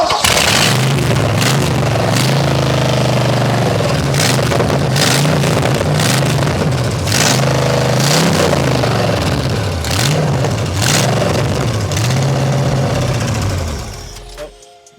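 S14 with a carbureted V8 swap cranks, fires and settles into a loud, lumpy running note close by, with throttle blips surging and dropping repeatedly before cutting off at the end.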